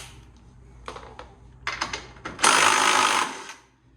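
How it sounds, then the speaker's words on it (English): An impact wrench removes the pull plate nuts on a Can-Am X3 in a short, close burst of rattling hammering that lasts about a second, preceded by a few metallic clicks and clatters. "take your wrench or your ratchet and impact or whatnot and remove these nuts"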